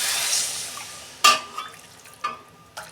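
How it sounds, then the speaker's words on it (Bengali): Water is poured into a pan of frying Bengali tengra fish curry, an initial hiss and splash followed by a few brief sizzling bursts and spatters up close, with no talk. "আমি জল দিচ্ছি"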